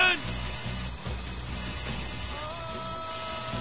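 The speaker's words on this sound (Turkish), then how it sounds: "Alarm verildi!" A steady electronic alarm rings continuously at moderate loudness over a dense background of rumble and noise, with no clear pauses.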